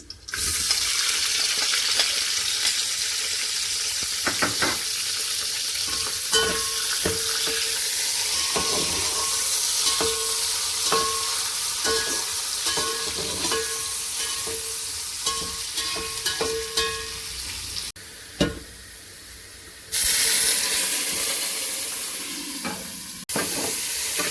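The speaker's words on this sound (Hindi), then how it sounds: "तो ये ऑयल में मैं खड़े मसाले ऐड कर रही हूँ। इसको थोड़ा सा रोस्ट करने के बाद इसमें अनियन ऐड कर देंगे।" Whole spices and onions frying in oil for chicken pulao, a long steady sizzle with repeated stirring scrapes and clinks, near and fairly loud, briefly dipping near the end, no talking.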